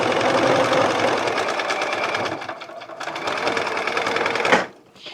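A sewing machine stitches half-square-triangle quilt pieces for a rainbow quilt. It gives a steady, close mechanical whir with rapid needle ticking that eases briefly midway, then stops abruptly near the end.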